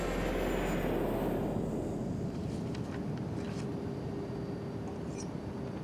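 Private jet cabin with leather-bound seats, heard as a steady low engine rumble and airflow hiss that stays constant throughout, with faint higher tones, no talk.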